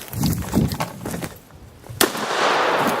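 A shotgun fires at a turkey during a youth hunt in Kentucky, a single loud, close blast that rings out over an outdoor background, with hurried talk before it.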